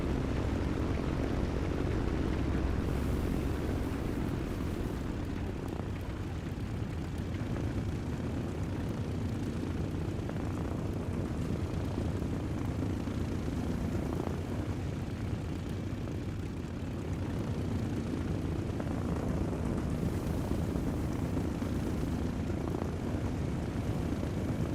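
A steady, droning propeller aircraft engine in the video game War Thunder hums continuously at even volume, with no talking.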